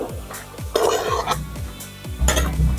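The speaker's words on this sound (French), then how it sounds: "On va retourner parce que automatiquement il y a des parties qui ont plus d'huile que d'autres." Fried potatoes being turned in oil in a pan for pilé de pommes de terre: close, loud metallic scrapes and clanks of a utensil against the pan, repeated several times over a faint sizzle.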